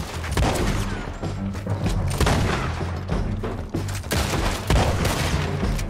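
Rapid gunfire and heavy booms in the Red Dead Redemption 2 video game, a loud sustained barrage of overlapping shots with artillery-like thuds and no clear speech.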